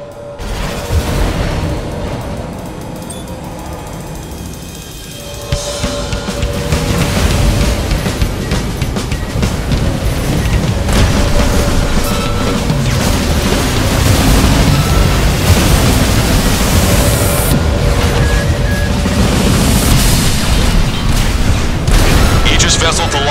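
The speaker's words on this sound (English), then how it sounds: "Aegis vessel Thalassa has been destroyed." In the Ace Combat 7 video game, explosions hit and destroy an Aegis vessel: heavy booms and blasts roll over a continuous rumbling battle din, with game voices talking throughout.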